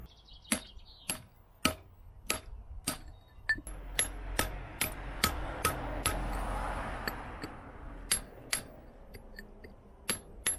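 Hammer striking a chisel in a steady series of sharp metallic taps, about a dozen evenly spaced blows, with a brief rustling noise in the middle.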